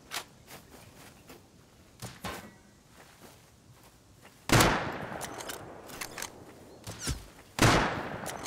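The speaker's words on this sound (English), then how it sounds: "Where are you shooting at me from?" Sniper gunshots ring out in the video game Rust, with sparse distant cracks early on and then two loud, sharp reports a few seconds apart, each leaving a brief echoing tail, with faint rustling in between.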